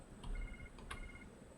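A phone rings inside the Jurassic World Evolution 2 video game, two short electronic trills over a steady game hum, faint and alone.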